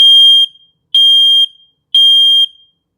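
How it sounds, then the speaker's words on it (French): A Nest Protect smoke alarm sounds during its smoke test, three loud, piercing identical beeps about a second apart with clean silence between them and no talking. "Il s'agit seulement d'un test. Test de fumée."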